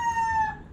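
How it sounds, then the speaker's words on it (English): The tail end of a rooster's crow in the Philippines, a brief sustained high call fading out. "And I'm competing with this rooster, so hope you don't mind."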